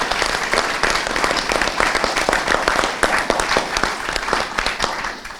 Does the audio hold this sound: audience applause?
yes